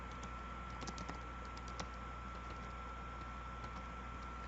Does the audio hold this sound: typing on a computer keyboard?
yes